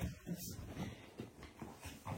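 Several small dogs, including a Cavalier King Charles and a chihuahua, make soft whimpers and pants and patter about indoors, with quiet voices underneath.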